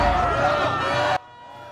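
Supporters cheer and shout as a presidential security motorcade appears at a Seoul detention center gate, a loud, dense crowd roar that cuts off abruptly.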